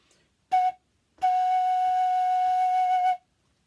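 A simple toot flute plays bar 3 of Mozart's Eine kleine Nachtmusik: a brief tongued note, a pause, then one long sustained clear tone with faint articulation ticks, solo and close.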